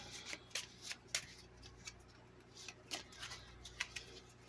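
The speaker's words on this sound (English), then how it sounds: "So we'll shuffle up our cards." Soft, quiet riffle-shuffling of playing cards, a series of brisk rustling bursts in a steady rhythm, close by with no speech.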